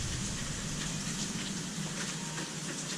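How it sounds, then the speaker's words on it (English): Pea-sized hail falls steadily during a hailstorm, making a dense, even hiss of countless small impacts that stays constant throughout with no talking. "We get a whole dang hailstorm."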